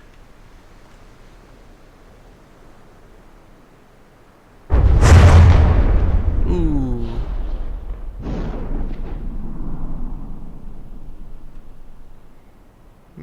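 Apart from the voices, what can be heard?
explosions from ship collisions in the video game From the Depths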